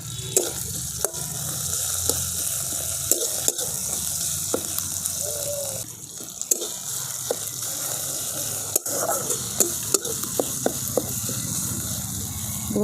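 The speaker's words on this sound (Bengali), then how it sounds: "টমেটোটা একটু ভাজা ভাজা করে নিয়েছি" Chopped tomatoes and torn green chilies fry in oil with ginger, a constant sizzle punctuated by repeated sharp clicks and scrapes of a spatula stirring against the pan.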